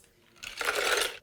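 Ice tipped into a blender for a chai spiced reishi smoothie lands as one short, bright rattling clatter lasting under a second, close and alone.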